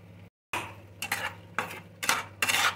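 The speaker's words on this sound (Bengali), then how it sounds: "তো এবার আমি এই মশলাগুলো দিয়ে দেবো" Salt, turmeric, chili and cumin powders go into a cooking pan with fish, giving bursts of sizzling and spoon scraping after a brief silence, four or five loud strokes close by.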